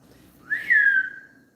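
A single clear whistled bird note rises, then glides downward and fades, heard alone against a quiet outdoor background.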